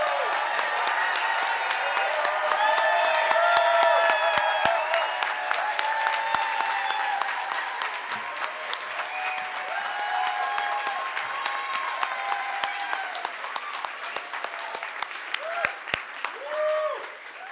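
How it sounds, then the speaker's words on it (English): Sustained crowd applause for graduates at an adult bachelor's program recognition ceremony, loud and continuous at first, then thinning, with scattered squeaky tonal sounds and voices mixed in. "So shall we have one final round of applause for all the graduates?"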